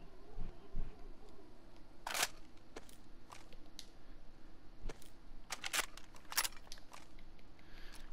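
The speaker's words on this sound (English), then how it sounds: "I'm loading my other 12 mag on my hot bar" Small mechanical clicks and clacks as a magazine is loaded in the DayZ video game, scattered sharp ticks at irregular intervals over a faint background hiss, with no talking.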